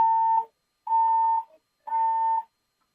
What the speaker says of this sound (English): the fire alarm is going off in the Superior Court right now